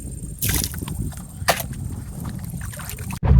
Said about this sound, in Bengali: বৈঠা দিয়ে নৌকা বাইতেছে